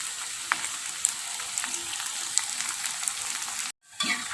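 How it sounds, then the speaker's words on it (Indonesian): Tempeh slices fry in hot oil over a high flame with a steady, dense sizzle and occasional crackling pops, close up; near the end the sizzle cuts out briefly before resuming. "Ini untuk tempenya kita goreng."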